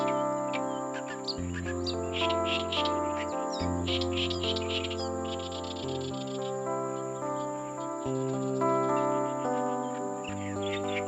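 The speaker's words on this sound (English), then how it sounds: "These black and white birds were perched on a tree when we met them." Black and white birds call from a tree with short, bright chirps and tweets, repeated irregularly over a steady layer of sustained, tonal background sound.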